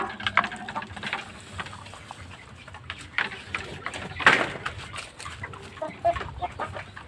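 Farm chickens cluck in short irregular bursts, fairly close, with one louder squawk partway through against a quiet outdoor background.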